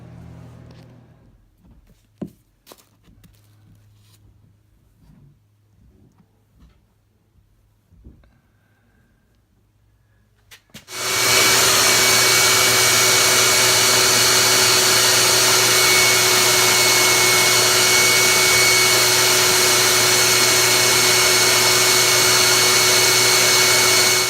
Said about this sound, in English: I'm not getting the suction I want, so I'm going to try to blow it in there.